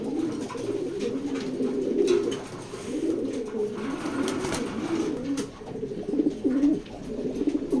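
Racer pigeons coo close by in a continuous low, rolling chorus of overlapping throaty calls, with faint background rustling.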